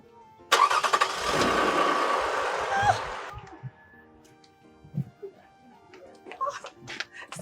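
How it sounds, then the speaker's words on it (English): A car engine is cranked and catches, producing a loud, roughening roar for about three seconds, then drops away while faint voices and small sounds follow. "Go and start the car."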